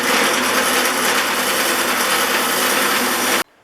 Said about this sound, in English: And then it's on to the wire wheel